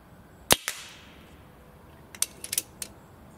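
An Artemis Snowpeak PP800R air rifle, UK-spec 30-foot model, fires one sharp, close crack followed by a short ring, then a few fainter clicks and taps of the rifle mechanism.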